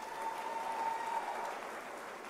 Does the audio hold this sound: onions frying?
no